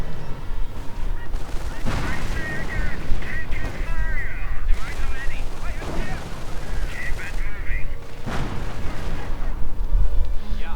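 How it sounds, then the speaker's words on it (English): Mortar and artillery fire from a Company of Heroes 1v1 match between US and German forces, with repeated booms and gunfire bursts running continuously under game effects and talk. "Then a mortar round takes some of them out."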